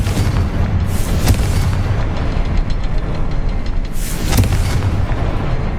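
Deep booming blasts from the Confringo fire spell in Hogwarts Legacy, two heavy explosive bursts a few seconds apart over a dense rumbling game soundscape.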